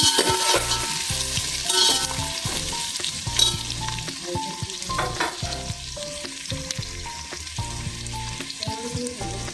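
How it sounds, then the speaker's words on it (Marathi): Onions sauté in a pan with cinnamon and bay leaf for chicken biryani, a steady close sizzle broken by frequent scraping and stirring clatters of a spoon against the pan, with no voices. "कांदा चांगला परतून घेऊया."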